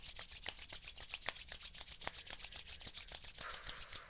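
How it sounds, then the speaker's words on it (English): Hands rubbing together briskly, a steady rhythmic swishing of skin on skin with about eight strokes per second, close and quiet, with no voices. "put your pen down, rub your hands together."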